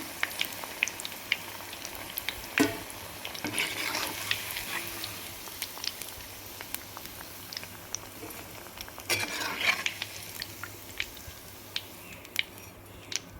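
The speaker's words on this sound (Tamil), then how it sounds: "பொரியட்டும் இப்போ திருப்பி போட்டுட்டேன் பொறிஞ்சிருச்சு எடுத்துருவோம்" Banana flower vada frying in hot oil, a steady soft sizzle and bubbling with occasional pops and crackles, faint and continuous throughout with no talking.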